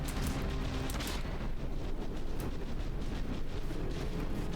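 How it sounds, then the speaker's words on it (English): Cannon fire in a battleship battle in the video game From the Depths makes a dense, continuous rumbling barrage of booms, loud and unbroken throughout. "Is our sniper cannon shooting anything important, I wonder?"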